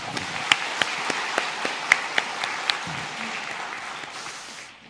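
A church congregation applauding together, a dense patter of clapping with a few sharper claps standing out, fading away toward the end.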